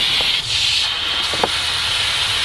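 Steady, loud hiss of air escaping from a cartridge filter tank, running continuously with a couple of small knocks over it.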